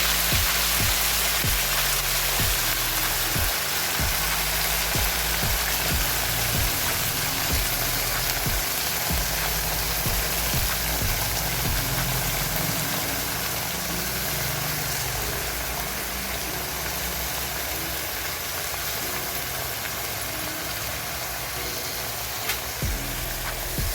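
Fenugreek leaves, green chili and garlic sizzle and fry steadily in a hot pan, a dense continuous crackle with occasional stirring scrapes, close and fairly loud with no talking.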